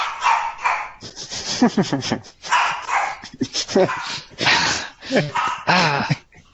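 A dog barks and yips in repeated bursts nearby, loud and close, with short pauses between the outbursts.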